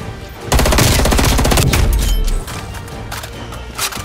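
Rapid automatic gunfire rattles in Call of Duty: Black Ops Cold War, a loud close burst of about two seconds followed by scattered quieter shots.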